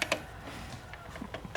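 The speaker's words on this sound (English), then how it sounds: "Click. Click. Okay, it's torqued." Sharp, dry clicks from a torque wrench tightening fittings on a Tesla Wall Connector, a few separate snaps spaced across a short, quiet stretch, close by with no talk.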